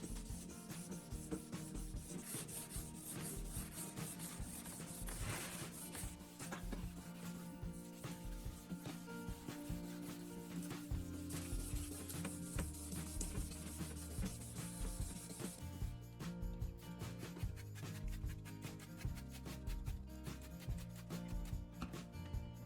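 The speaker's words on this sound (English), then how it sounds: "I keep the surface wet while sanding to reduce friction and avoid scratching." Wet sanding of an oxidized, foggy plastic headlight lens by hand with 1000 grit sandpaper: steady, continuous rhythmic rubbing strokes, close and even in level throughout, with no talk.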